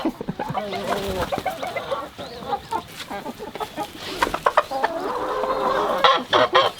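Backyard chickens clucking and calling close by, a busy run of short clucks and squawks with a few louder calls toward the end, no clear talking.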